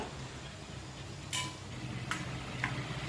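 Mango pieces stirred into pickle gravy for a Kerala mustard mango pickle, a soft continuous wet stirring with a few brief scraping clicks of the spoon against the pot.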